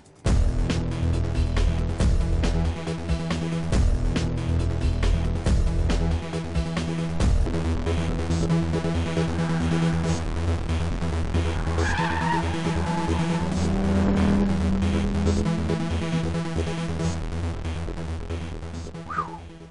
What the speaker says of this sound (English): You've got to brake downhill, downshifting as you go, sharp left-hander corner, followed by sharp right-hander as you wind on the throttle.